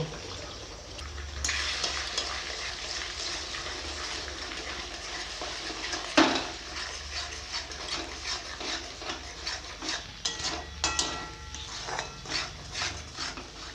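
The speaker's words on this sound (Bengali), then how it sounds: "চারটে ডিম আমি ভেজে নেব সামান্য লবণ দিব" Four eggs frying in hot oil in a kadai with a pinch of salt, a steady crackling sizzle with scattered sharper pops and a loud spatter burst midway, clatter of a utensil now and then.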